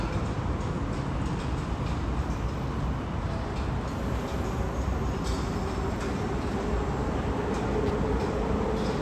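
An LRT light rail train arrives at Gombak station, a steady rumbling roll of wheels and motors filling the platform at constant loudness, with faint squeals near the end and no voices.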